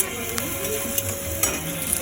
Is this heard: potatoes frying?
yes